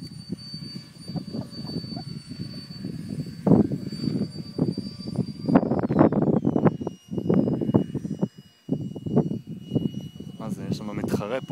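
An F-16 jet flies overhead with a steady, broad roar that swells and dips over several seconds, loud and continuous throughout.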